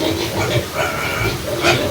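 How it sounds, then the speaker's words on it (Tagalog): A pregnant pig grunts in low, rough snorts over a noisy outdoor background, with a person talking over it. "buntis na baboy"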